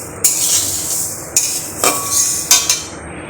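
Mung dal dry-roasting in a pot for khichuri, stirred with a utensil: a dry granular rustle punctuated by four or five sharp scrapes and knocks against the pot, close and fairly loud, with no talking.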